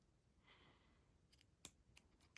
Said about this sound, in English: Cut my elastic.